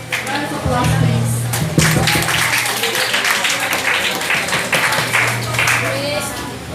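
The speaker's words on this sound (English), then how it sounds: "Round of applause, please." Applause from a classroom audience after a debate, dense clapping running throughout with a steady low hum underneath and faint voices mixed in.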